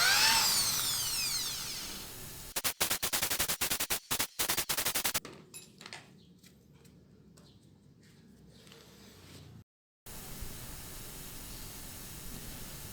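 A power drill bores a hole while making an irrigation pump valve, sounding as a run of rapid, loud stuttering bursts in the middle of the clip, framed by steadier hissy noise and quieter stretches.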